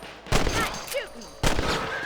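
Two sharp gunshots from the Western video game Red Dead Redemption crack out about a second apart, each with a short ringing tail, while faint whistling game sounds play between them.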